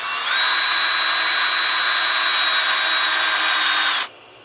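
A power drill drives a screw into a storage bin, a single loud, steady whir lasting about four seconds before it cuts off abruptly, with nothing else heard.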